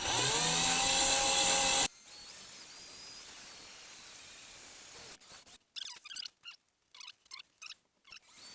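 A power drill bores a pilot hole in wood for dowel joints during bread box assembly, with a loud steady whine for about two seconds followed by a quieter stretch and then a series of short, choppy bursts.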